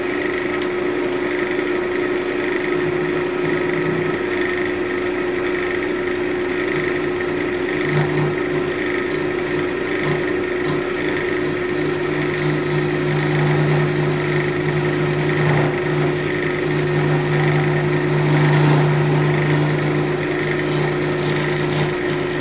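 A wood lathe spins a resin and cork vase blank with a steady, loud motor whine and continuous tonal hum, the turning noise swelling and fading slightly over the long stretch without any voices.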